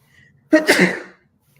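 One abrupt sneeze, close and loud, a sharp burst that fades within half a second into a quiet room.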